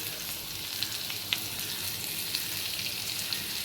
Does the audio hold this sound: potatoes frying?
yes